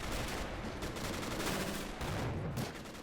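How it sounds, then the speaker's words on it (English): Explosions and gunfire in a WWII video game battle form a dense, loud barrage of overlapping blasts and rapid shots, with several sharper booms standing out near the middle and end, and no voices. "Grenades going off here."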